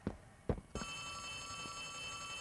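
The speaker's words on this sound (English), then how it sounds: "is that my cell phone?" A cell phone rings in Poppy Playtime Chapter 3, a video game: a few brief knocks, then a sustained electronic ring that carries steadily to the end, clear and alone.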